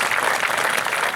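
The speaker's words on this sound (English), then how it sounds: "Oh, go ahead, make a clap." Audience applause fills a Veterans Day ceremony held by the City of Elgin, a brief, steady burst of many hands clapping, dense and fairly loud throughout.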